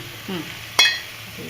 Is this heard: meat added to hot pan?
yes